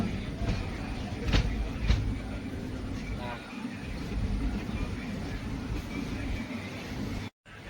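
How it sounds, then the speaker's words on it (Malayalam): An Intercity Express train pulling out of Cherthala railway station, a continuous low rumble of the moving carriages with faint background chatter and a few sharp knocks. "ഒരു മിനിറ്റിന് ശേഷം ചേർത്തലയിൽ നിന്നും ട്രെയിൻ എടുത്തിരിക്കുകയാണ്"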